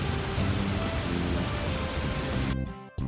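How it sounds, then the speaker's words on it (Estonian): Rain pours down steadily as a dense, loud hiss of drops on surfaces, a thunderstorm rumbling beneath, before the sound abruptly thins and cuts out near the end; no one speaks. "Tulge tuppa, vihma hakkas sadama."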